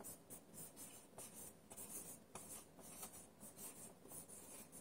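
Pencil or pen writing by hand on paper during a phonics lesson, a close, steady scratchy rasp of strokes with brief pauses between letters, alone without talk.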